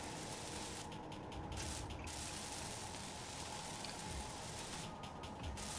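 A welder at work in a video game, a continuous loud hissing, spraying buzz that holds steady throughout with a few brief shifts in texture, with no talking.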